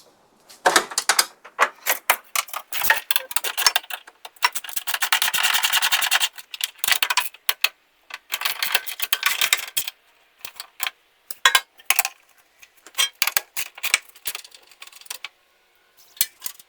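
Four bolts are worked loose on a John Deere 300 tray, with a jumble of close metallic clicks, ratcheting rattles and clinks in irregular bursts and short pauses, and no talking.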